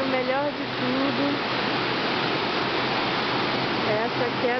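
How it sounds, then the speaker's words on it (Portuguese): A powerful waterfall in Brazil roars as steady, dense rushing water close by, with a voice speaking briefly over it at the start and again near the end. "é essa queda d'água."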